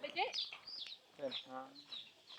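Chickens cluck in short bursts at a rural village farm, with a few harmonic calls rising over the background and voices talking close by.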